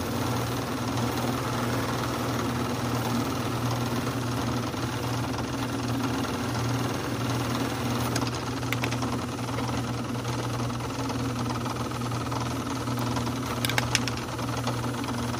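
A small machine spins a handmade wooden ring during buffing with compound, a steady close motor hum with rhythmic whirring and a few brief higher clicks, no talk.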